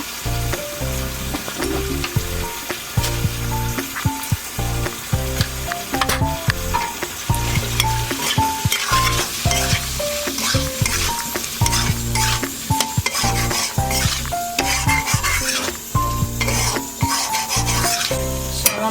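Spices with chili powder and a pinch of sugar stir-fry with potatoes in a pan, a steady loud sizzle with repeated scraping and rubbing stirs throughout, over a constant background hum and no talk.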